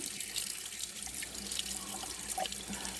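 Tap water runs steadily into a sink to fill a bath for a guinea pig, a continuous close splashing flow without pauses or speech.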